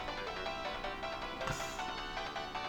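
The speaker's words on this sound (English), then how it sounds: "Wait, is that my phone ringing?" A phone ringtone sounds in the visual novel game Steins;Gate Elite, a melodic electronic tone with layered musical notes playing continuously and fairly loud, with no talking.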